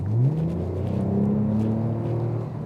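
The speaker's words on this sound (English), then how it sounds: "So it revs right up, you can hear it." A 2022 Toyota Camry TRD engine revs up under kick-down on city streets, a rising, close engine note climbing in pitch, then holding a steady drone.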